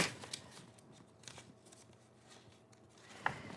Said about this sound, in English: grab a few more sheets of paper here